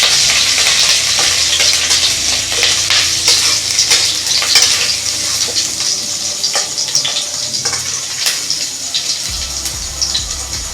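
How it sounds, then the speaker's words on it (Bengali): Chopped ginger and garlic fry in hot oil in a pan, giving a loud, continuous sizzle broken by scraping stirring strokes. No one talks. "এবার আদা রসুন যে কুচু কুচু করে রেখেছিলাম ওটা আমি দিয়ে দিলাম। হালকা করে ভেজে নিব।"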